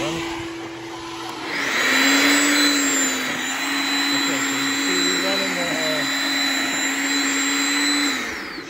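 An electric wood chipper runs on a Bluetti AC200max portable power station, giving a loud, steady motorized drone with a broad grinding roar that holds for several seconds.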